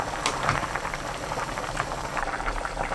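A pot of Korean seaweed soup made with garlic, soy sauce and anchovy fish sauce bubbles steadily at a medium simmer, giving a continuous close burble of small popping bubbles.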